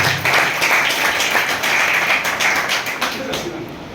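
A crowd claps and applauds steadily for several seconds, a dense patter of many hands close by, with a bit of voice mixed in.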